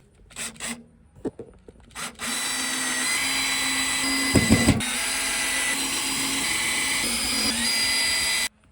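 Power drill driving screws while installing Lippert Solid Steps on an RV, a few short taps and a brief spin first, then one long, steady, loud whirring run that stops abruptly, close by with no talk.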